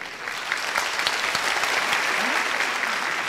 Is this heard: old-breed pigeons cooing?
no